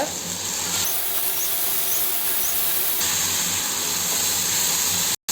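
Ground onion and ginger-garlic paste stirred and frying in a pan for sundal gravy, a steady loud sizzle and hiss running throughout with no speech.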